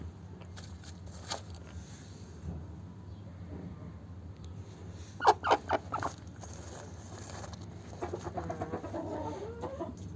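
A hen clucks over a steady low hum, giving a burst of several close, sharp clucks midway, then a faster run of clucking toward the end.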